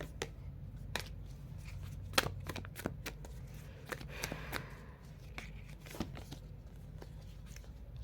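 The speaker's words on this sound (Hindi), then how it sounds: "एक बार शफल कर लेती हूँ क्योंकि ये सारे कार्ड्स अचानक आया है" Tarot cards are shuffled by hand close up: a run of crisp flicks and soft riffling snaps in quick, uneven succession over a low room hush.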